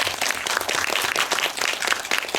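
An audience at a film screening Q&A applauds an actor on his birthday with dense, steady clapping that fills the room for the whole stretch.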